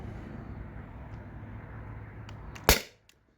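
A single sharp, loud shot at about 2.7 s as a T4E HDP50 air pistol, modified with a remote line adapter and running on HPA, fires a 2.7 gram aluminum ball over a chronograph, above a steady hiss and hum of background air.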